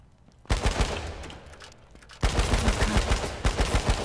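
Two bursts of rapid gunfire in the video game H1Z1, a short volley followed by a longer rattling string of shots, loud and close.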